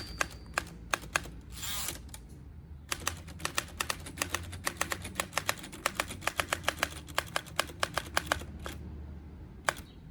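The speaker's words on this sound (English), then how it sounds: "Writing on typewriters is really easy." Crisp, rapid keystrokes on a portable typewriter clatter in irregular bursts, with short pauses between runs of typing, close and fairly quiet.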